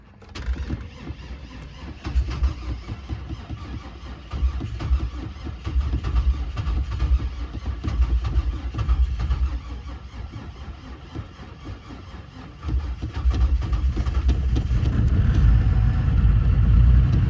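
A car engine filled with two gallons of soap idles unevenly after a restart, a steady low rumble that rises as the throttle is blipped toward the end.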